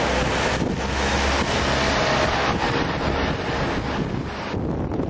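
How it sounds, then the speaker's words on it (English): Strong gusty wind just off the beach at Shanklin roars and buffets the microphone in a loud, continuous rush, with a faint wash of surf beneath it. "there are strong gusty winds here, almost tending to blow you away"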